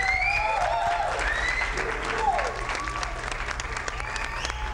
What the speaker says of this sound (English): Let's give Bob a big round of applause for making things happen.